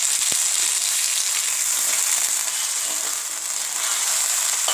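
Onions frying in a pan with a splash of water for a potato, carrot and peas curry, making a loud, steady, close hiss of sizzling oil that runs without a break, with an occasional faint tap and no speech.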